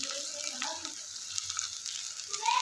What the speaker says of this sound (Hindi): मैं इसमें थोड़ा सा जो मैंने लहसुन चॉप किया हुआ था वो ऐड करूँगी। फिर से इसको अच्छे से फ्राई कर लेंगे।